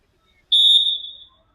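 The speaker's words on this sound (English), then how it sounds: "has blown the whistle and we're off to the first game" A referee's whistle is blown to start a youth sevens football match in Mumbai, one clear sustained shrill blast of about three-quarters of a second that tapers off, alone in a quiet background.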